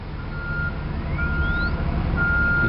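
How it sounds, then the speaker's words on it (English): A Megger HT1000/2 wire analyzer running a frequency sweep, a faint tone gliding upward alongside intermittent steady beeps over a loud low rumble of background noise. "you can hear the frequency sweep"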